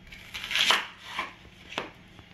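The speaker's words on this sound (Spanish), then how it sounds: "Vamos a cortar una cebolla, como pueden observar, una cebolla verde," A knife chops a green onion on a board, making a few close, crisp cuts in quick succession.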